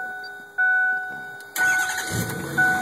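A truck fitted with a twin Siemens pump cranks and fires up quickly, settling into a steady running drone, with a tonal whine from the machinery running throughout, loud and close.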